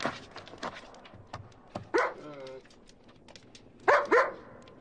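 A dog gives a few short barks and whimpers, with high yips and whines in bursts, between people speaking French nearby.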